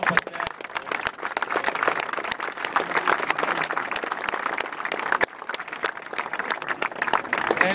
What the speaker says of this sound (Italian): Farei un grandissimo applauso.